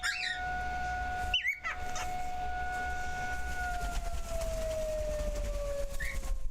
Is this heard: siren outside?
yes